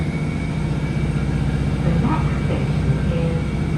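A train departing Gunnislake station in Cornwall gives a steady, loud low rumble and drone that barely changes across the short stretch, with no one speaking.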